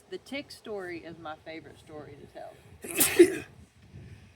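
A single sharp sneeze bursts out near the end, following a stretch of close conversational talk.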